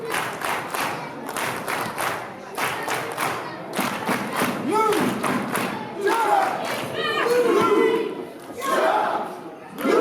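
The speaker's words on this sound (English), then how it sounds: "Getting the crowd to do the lucha lucha with him." A wrestling arena crowd chants in a steady rhythmic unison, accented by loud thuds and cheers, while a commentator talks over the noise.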